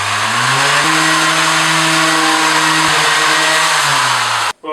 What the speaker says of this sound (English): I'm going to just redo this table using this old Bosch sander